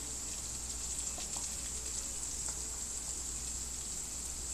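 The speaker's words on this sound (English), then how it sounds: "So you want to start by sauteing the garlic." Garlic sautéing in a pan for Thai green curry chicken gives a steady, quiet sizzling hiss that runs unbroken throughout, with no voices.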